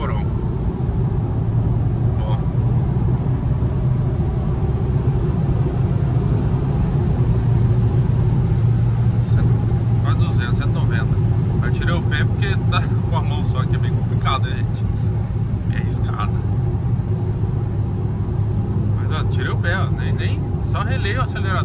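A Volkswagen Jetta cruising fast on a highway, with a steady loud road and engine rumble throughout and someone talking over it.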